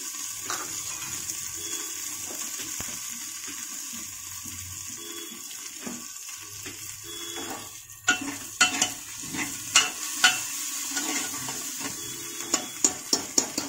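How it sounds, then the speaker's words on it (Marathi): Onion and coriander stir-fry in a pan, a close steady sizzle that shifts to a run of sharp scraping, clattering stirs in the second half, with no talking. "कांदा आणि कोथिंबीर चांगली परतून दिली ना, म्हणजे काय होतं, छान टेस्ट येते।"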